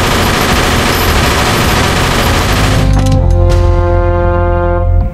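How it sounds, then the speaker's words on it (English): A Thompson submachine gun fires a loud, continuous burst of rapid automatic rounds, which cuts off into a ringing echo that slowly decays. "The Tommy gun was firing a round that could knock people over."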